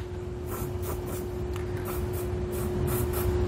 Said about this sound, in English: you can use whatever spray paint that you have available